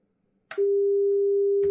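A steady electronic test tone switches on right after a short click as an audio device restarts within seconds, holding loud and constant on both channels until another click near the end.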